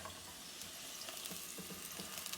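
French fries in a second round of deep frying to brown them, a continuous bright hiss and crackle of bubbling oil, steady and fairly close with no talking.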